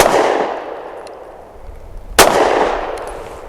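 Two sharp gunshots ring out from an S&W M&P Shield Plus pistol firing Federal Premium 124 grain Hydroshock rounds. The first starts the clip, the second comes about two seconds later, and each leaves a long echoing decay outdoors.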